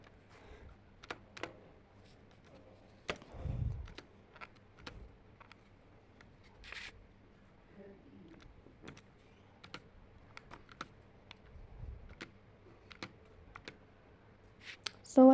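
Fingers tap out an entry on calculator keys: scattered light clicks, some in quick runs and some spaced apart, fairly quiet and close, with a few soft thumps and no talking.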